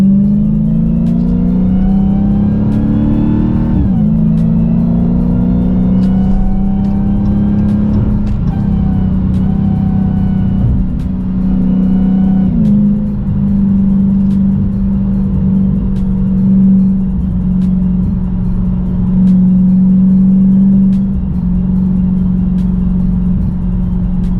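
A 2021 Dodge Challenger SRT Hellcat doing donuts, its engine holding a loud, steady roar with repeated revving surges and shifting pitch, heard close from inside the car with no talk.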